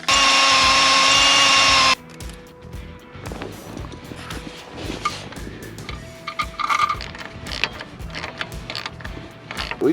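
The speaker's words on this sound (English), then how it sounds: "I'm just gonna drill a hole right there." Power drill boring a hole through the metal body of a school bus, a loud, steady whine for about two seconds, followed by quieter clicks, clanks and handling noises.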